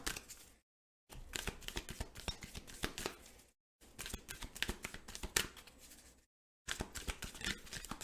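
Tarot cards, a Power of Love activation deck, are shuffled by hand in three quick papery riffling bursts separated by brief silences, close and fairly soft.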